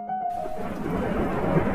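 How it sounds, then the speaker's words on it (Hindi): In an animated story, thunder rolls through a steady wash of heavy storm rain, low and continuous, after a brief quiet tone at the start. "तेज तूफान आया। खूब गरज चमक के साथ बारिश हुई।"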